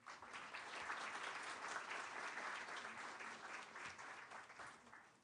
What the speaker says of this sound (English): please welcome them all with a huge round of applause